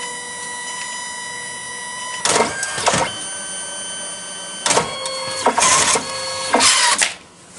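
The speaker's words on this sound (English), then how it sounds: "Printer immediately starts printing within like 3 seconds." A photo booth printer runs inside a DIY road case, starting with a steady whir and then making several louder mechanical feed bursts as the print moves through and ejects, close and alone.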